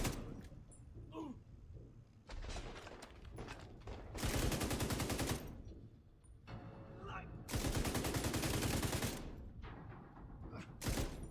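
Gunfire in the shooter game The Division 2, with rapid automatic bursts and scattered shots of moderate loudness, two long dense volleys standing out and a faint voice underneath.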